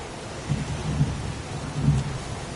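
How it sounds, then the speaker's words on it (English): Pouring heavy rain hisses steadily while low thunder rolls in soft swelling rumbles, the downpour close and continuous without any voices. "It's pouring rain."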